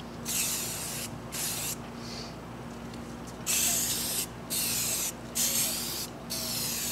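Primer going on as a first coat from a spray can outdoors on a windy day: several separate bursts of hissing spray, fairly close, with short pauses between them and steady wind noise underneath.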